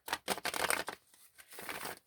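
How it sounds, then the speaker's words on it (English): Quick bursts of tarot cards being shuffled, a few rapid riffles with brief pauses between, close and fairly quiet. "Let's go ahead and just shuffle really quick."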